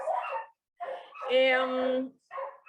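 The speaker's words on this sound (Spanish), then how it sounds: "perdón por los perros." Several dogs bark and yip close by in short bursts, one drawn-out whining howl in the middle, loud against an otherwise quiet indoor background with no talk.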